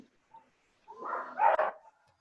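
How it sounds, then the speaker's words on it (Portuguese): A pet dog barks in a short, close burst of a few barks, rising to a louder cluster, preceded by a faint yip, with no talk over it. "É, meu cachorro que tá latindo."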